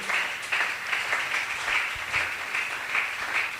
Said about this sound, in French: Ceux de Christ acclament pour le Seigneur.